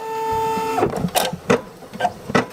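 Embroidery machine stitching a skyline design in white thread: after a steady electronic hum stops, a series of distinct mechanical bursts follows at roughly half-second intervals, close and fairly loud, with no talk.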